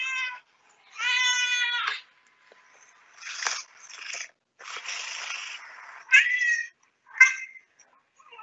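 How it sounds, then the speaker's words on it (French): Domestic cats meowing in a string of separate calls, some drawn out and some short, fairly close and clear with brief pauses between, no voices. "Je vous remets des petits bruits de chat pour 1 minute."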